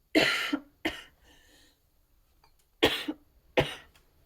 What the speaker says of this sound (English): Did not mean to get into that bit of a coughing fit there